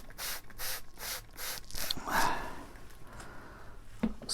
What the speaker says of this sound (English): First I'm going to take and spritz it